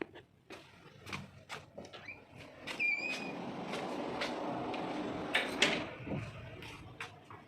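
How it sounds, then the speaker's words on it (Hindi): A door is opened at night in a home, with a few sharp knocks and clicks near the start, then a longer scraping, creaking stretch and a brief squeak, all close and fairly quiet with no talk. "अब जा रही हूँ दरवाज़ा खोलने"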